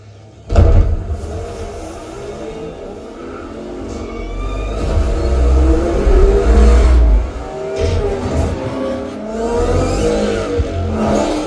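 A car engine revs and roars loudly with whirring acceleration, rising and falling over a busy, layered soundtrack in a Ready Player One movie scene.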